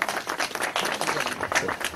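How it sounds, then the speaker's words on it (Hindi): Audience clapping at a ceremony honoring senior journalists, a dense burst of applause from a crowd lasting a couple of seconds. "इनके सम्मान में आप सबकी जोरदार तालियां"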